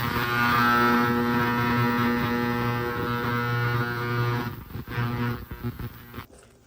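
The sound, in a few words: ultrasonic cleaner running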